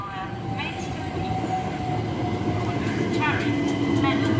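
Train at Ashford International station, a steady rail rumble that slowly builds in loudness, with faint metallic tones from the wheels and track.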